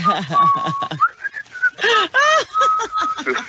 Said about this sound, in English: I whistle while I'm doing it.